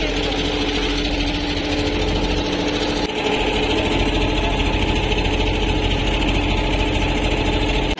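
A motorboat engine chugs steadily on a river crossing where the Bhagirathi meets the Jalangi, a loud close droning putter with a continuous mechanical rhythm that barely changes.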